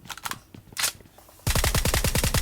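Rapid automatic gunfire sprays in the mobile shooter Valorant Mobile, with a few short bursts early and then a loud, sustained stream of fast repeating shots filling the last second.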